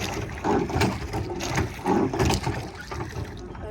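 Water sloshing and splashing in a steady rhythm of alternating paddle strokes rowing a tender, two stronger surges standing out, close by with no talking.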